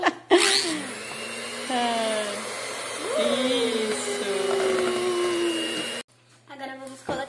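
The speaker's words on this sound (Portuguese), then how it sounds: "Você vai continuar batendo a batedeira ou não?" Small electric hand mixer beating cornmeal cake batter whirs loudly and continuously, its pitch dipping and rising as it works, then cuts off near the end; voices speak briefly over it.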